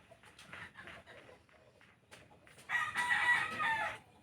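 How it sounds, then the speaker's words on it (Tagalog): Roosters crow at a distance, faint at first, then one louder, drawn-out crow rings out near the end against a quiet background. "Pagpasensyahan nyo na lang kung may mga tumitilahok na manok."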